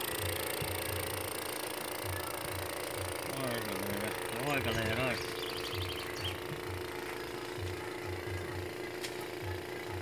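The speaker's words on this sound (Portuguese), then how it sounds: "Esquenta aí, vai lá, liga o motor." A pool cleaning pump motor running, a steady rhythmic mechanical chugging hum close by that continues throughout while a person speaks over it briefly.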